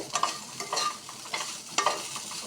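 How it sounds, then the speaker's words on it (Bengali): Loud sizzling of shrimp and eel fish frying in hot oil, with repeated scraping stirs of a utensil against the pan at an uneven rhythm. "আর সঙ্গে আমি চিংড়ি আর বাইম ভেজে নিচ্ছি।"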